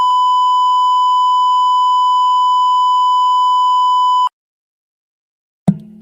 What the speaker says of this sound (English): I don't know what all that beeping's about, because that hurts my ears